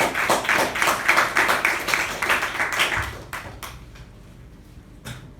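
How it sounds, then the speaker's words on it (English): Meeting attendees give a round of applause, dense clapping that is moderately loud for about three seconds and then thins to a few scattered claps and trails off. "Please give a big round of applause"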